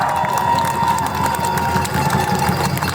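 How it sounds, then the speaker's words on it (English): A crowd at a Trans Pride protest in Nottingham keeps up loud, sustained applause and cheering, dense clapping throughout with a steady hum underneath. "Give yourself another round of applause"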